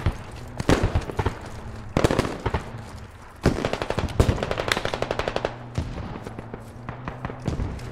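Rapid automatic gunfire and heavier mortar blasts from a military battle in the video game Squad, loud bursts rattling in clusters with sharp single shots between them and a low engine hum underneath.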